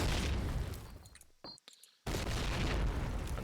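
A grenade goes off in Call of Duty: United Offensive with a loud, rumbling broadband blast. The roar cuts out briefly into near silence, then a second heavy burst follows and carries on to the end.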